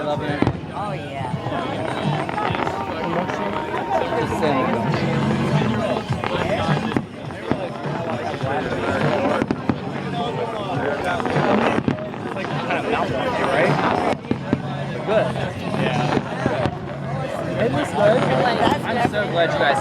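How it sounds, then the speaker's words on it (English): Fireworks at the WEBN show in Newport, Kentucky boom and crackle in repeated bursts over a large outdoor crowd, with nearby people chatting and cheering throughout. "You like the fireworks?"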